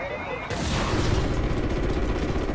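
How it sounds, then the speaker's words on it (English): Gunfire and explosions in the Call of Duty Ghosts campaign mission Birds of Prey, a dense loud barrage of rumbling blasts and shots that starts abruptly and continues without pause. "gun these guys down"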